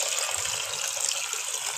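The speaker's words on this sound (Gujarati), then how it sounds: "એમાં આપણે પાણી ભરીએ છીએ." Tap water gushes steadily into a bucket in a home kitchen, a close, even, hissing pour with no pauses and no talking.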